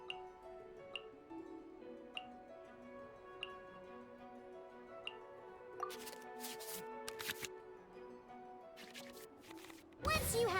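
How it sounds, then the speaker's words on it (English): Digital card shuffling from the Genius Invokation TCG card game in Genshin Impact: soft ticking clicks at a steady pace, then brighter flurries of card swishes and a dense burst of shuffling at the end, over quiet game music. "we can select any number of cards in our hand to shuffle back into the draw pile, and then draw the same number of new cards"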